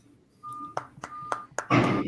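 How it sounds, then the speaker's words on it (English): A vehicle's reversing alarm gives four evenly spaced, medium-loud single-tone beeps, followed by a burst of louder noise and voices at the end. "We're getting the backup beeps and everything today."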